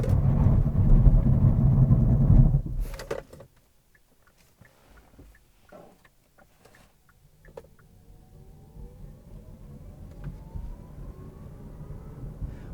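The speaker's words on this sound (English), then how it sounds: "Now let me show you the braking performance of Niro EV." 2019 Kia Niro EV electric car braking: loud road and wind noise cuts off abruptly as the car stops, then quiet cabin ticks and a rising faint electric motor whine as it pulls away.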